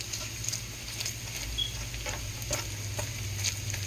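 Bacon frying golden brown in a pan for a Sunday dinner of Zuppa Toscana, a steady close crackle and patter of fat with small pops, continuous and even with no talk.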